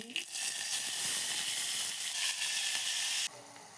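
A vaghar tempering hitting hot oil in a home kitchen, a loud bright hiss that bursts up at once, holds steady for about three seconds, then cuts off abruptly.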